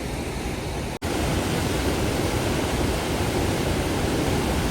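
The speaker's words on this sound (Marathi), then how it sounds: "पाण्याचा फ्लो." Water flows steadily near Dhareshwar temple, a dense, continuous rushing wash that stays loud and unbroken throughout except for one brief dropout.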